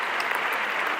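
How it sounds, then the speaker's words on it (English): An audience at a network marketing event applauds, a dense, steady patter of clapping from many hands filling the room without a break. "give yourselves a big round of applause for being here"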